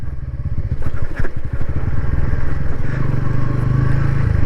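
A Bajaj Pulsar N150 motorcycle engine putters and revs up close while riding, its pitch changing as it shifts gears, with a rough clattering rumble throughout.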